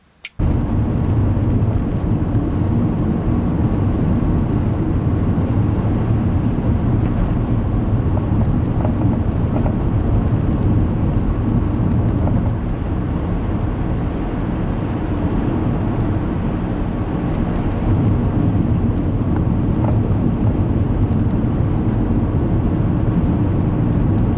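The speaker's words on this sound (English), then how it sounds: "that was a pretty cruisy drive" Steady interior road noise of a car cruising along, a loud, even low rumble and hiss that continues unbroken for the whole stretch with no talking.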